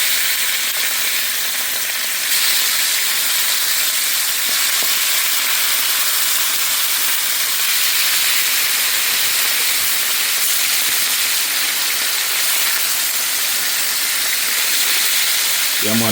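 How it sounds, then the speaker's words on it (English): Jamaican escovitch fish fry in hot oil with a dense, continuous hissing sizzle that stays loud and even throughout the long stretch, with no voices. "so we're just gonna fry them"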